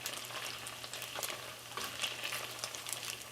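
Boiled beef tripe starts frying in the same pan, giving a faint, steady, even sizzle with light crackles and no talking.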